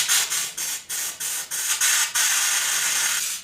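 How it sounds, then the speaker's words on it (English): Short bursts of undercoating from a spray gun at 60 psi hiss in a quick series, then one long sustained spray, close and steady with no voices. "So we'll do a test spray, see how the 60 psi works."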